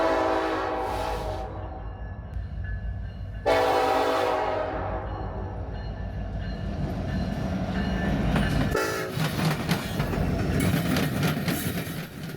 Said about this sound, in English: we caught this empty BNSF coal train blasting through downtown, clattering across the diamonds of a Union Pacific branch line